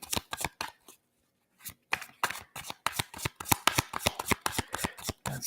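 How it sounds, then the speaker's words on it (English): A tarot card deck being shuffled up close, rapid riffling bursts with a short pause before a longer run of quick crisp card flicks, no talking. "it sticks on the deck when you shuffle it now"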